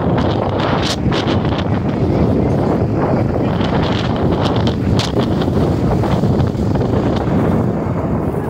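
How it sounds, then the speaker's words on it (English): Strong wind at an outdoor parade buffets the microphone in loud, continuous gusts, rumbling and roaring throughout with brief sharper bursts. "It's kind of still windy outside."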